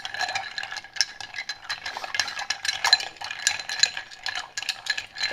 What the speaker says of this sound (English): So we're stirring this down.